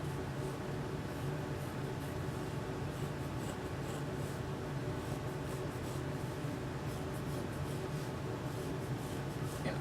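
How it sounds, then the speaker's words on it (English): A pen or pencil rubbing steadily across a matting board while lines are drawn, a faint continuous scratchy stroke sound with no pauses, steady and quiet throughout. "So I'm going to go ahead and draw these lines."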